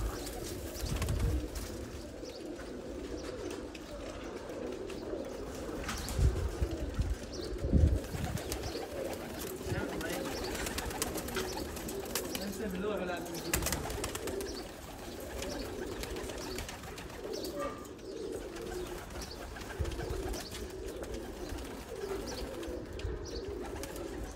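Omani Hatem Teddy pigeons coo softly and repeatedly in a loft, low murmuring calls overlapping amid faint background rustle and noise.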